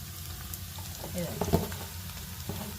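Onion and green chilli with a little ginger garlic paste fry in a pan, a steady close sizzle broken by scraping stirs, with a voice faintly underneath.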